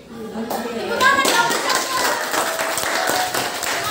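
Hands clapping in a classroom during a university economics community-outreach session, a dense burst of applause from a group of pupils that swells after the first half second and carries on steadily, with children's voices mixed in.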